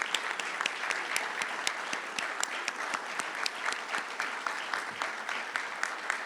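Sustained applause from an awards ceremony audience, many hands clapping steadily and densely for several seconds with no talking over it.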